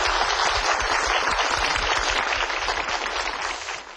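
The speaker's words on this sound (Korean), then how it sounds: "박수로 맞이해 주세요" An audience at a Korean art history lecture claps to welcome the lecturer, a full steady round of applause that gradually thins and fades toward the end.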